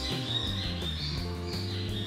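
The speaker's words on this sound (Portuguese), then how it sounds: "Ao som dos pássaros." Birds chirp faintly in the background, a few light tweets over a steady mixed backdrop with no talk.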